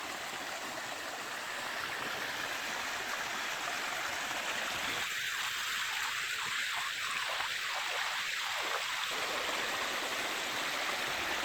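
A mountain valley stream near Dongduchean flows in a steady rushing wash, water close and constant throughout, with a brief faint voice-like sound midway.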